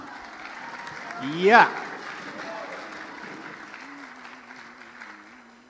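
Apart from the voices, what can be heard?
audience applause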